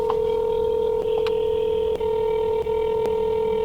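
A telephone keypad dials a customer's number, a steady tone interrupted by a quick series of distinct beeps, loud and close with no talking.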